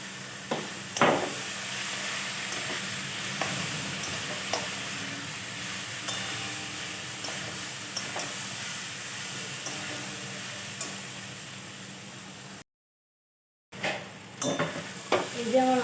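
Poppy seed paste sizzling in a pan with red amaranth stalks, a steady close frying hiss with scattered clicks of stirring and a brief gap of silence near the end.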